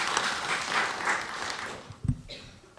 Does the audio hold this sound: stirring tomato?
no